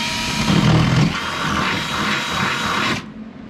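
Power drill upsizing a hole for an M6 rivet nut on a Honda CRX sideskirt, a loud steady whine lasting about three seconds before cutting off abruptly.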